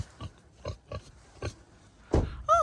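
Pigs on a farm give a series of short grunting oinks in an irregular rhythm, close and moderately loud, followed by a higher squeal at the end.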